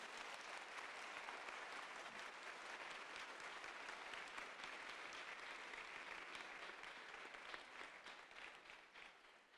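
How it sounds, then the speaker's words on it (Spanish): Steady, dense applause from a church congregation at a Marian consecration service, filling the space evenly for nearly ten seconds before tapering slightly at the end, with no voices over it. "Dale un aplauso a Jesús y a María"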